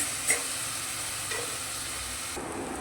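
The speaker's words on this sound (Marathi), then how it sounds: "2 मिनिटं असंच त्याला परतून घ्यायचं।" Minced mutton sautéing with onion, ginger and garlic paste in a pan: a continuous soft hiss of frying with a couple of faint stirring clicks, moderately quiet and steady, no talking.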